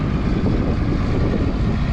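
A tractor engine drones loudly and steadily while dragging hay bales out of a wheat field with a rear bale spear, a dense low rumble with no break.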